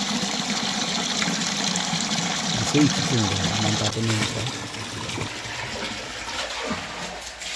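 Groundwater gushes steadily from a motor pump on a village farm, a constant close wash of water running the whole time beneath a voice talking.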